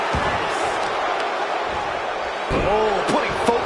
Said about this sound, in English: Oh, what a clothesline.